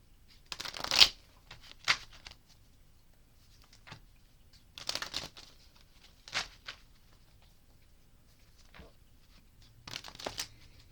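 An oracle card deck is shuffled and cut by hand close up, with several short bursts of riffling and slapping cards separated by quiet pauses and no talking.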